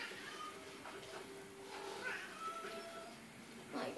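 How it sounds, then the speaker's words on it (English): A house cat meows repeatedly from nearby, wanting to be let in, its cries rising over a steady electronic hum of Rocket League gameplay with a quiet voice at times. "my cat wants to come in so badly"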